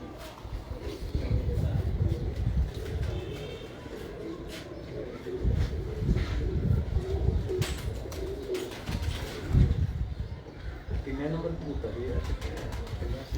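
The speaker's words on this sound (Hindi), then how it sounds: "अच्छा यहाँ जितने ब्रीडर कबूतर हैं ये सारे?" Breeder pigeons cooing in a loft, a steady low murmur of soft repeated coos with rustling and movement sounds, while people talk nearby.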